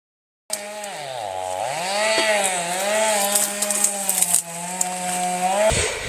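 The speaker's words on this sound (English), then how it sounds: "So this is one of our electric handheld chainsaws." A small electric handheld chainsaw cuts tree limbs up close, its motor whine rising and falling in pitch as the load changes, with brief rattling bursts.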